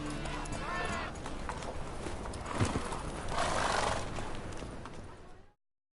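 Geralt's horse Roach in The Witcher 3 lets out a whinny over rhythmic clip-clopping hooves, with a voice speaking nearby before the sound cuts off abruptly.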